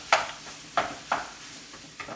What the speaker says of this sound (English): The sauce is simmering